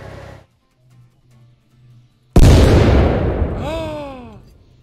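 A tank gun fires in Tank Mechanic Simulator, an M26 Pershing on the proving grounds: one loud, sudden blast after brief quiet, trailing into a long rumbling decay with whistling, descending debris tones.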